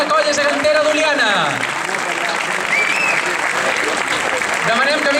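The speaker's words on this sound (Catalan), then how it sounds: "Un fort aplaudiment per la colla gegantera d'Oliana." Audience clapping for a giant-dancing troupe at a national giants' dance contest, a full sustained round of applause with an announcer's voice over it at the start.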